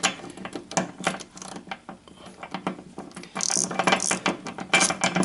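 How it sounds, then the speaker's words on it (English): Quick, uneven bursts of ratchet clicks tighten bolts on rock light mounts under a Yamaha Wolverine X2 XT-R 850 side-by-side, close and crisp, with short pauses between strokes. "once you've got them both on there, you can start to tighten them"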